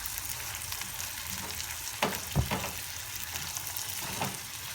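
Green lentil filling sizzling steadily in a pan as it is sautéed for a börek, a soft continuous fry hiss with a few brief clinks and stirring knocks.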